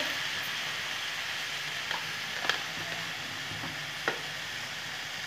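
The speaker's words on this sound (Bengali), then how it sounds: "হাই হিটে আমি গ্যাসের ফ্লেমটাকে হাই রেখে খুব ভালো করে নাড়াচাড়া করে নেব শাকগুলোকে।" Leafy laphah greens stir-fry with chilli in a pan over a high gas flame, giving a steady hiss of sizzling under a few soft scrapes and clicks from stirring.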